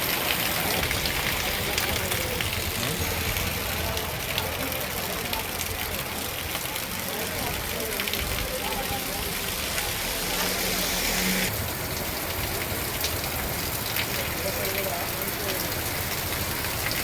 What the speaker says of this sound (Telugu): భారీ ఈదురుగాలులతో వర్షం కురవడంతో